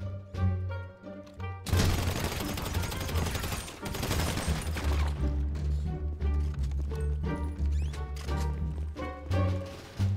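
Rapid bursts of gunfire in a GTA RP zombie-survival server game, loud, close shots clustered over several seconds above a steady backing music bed.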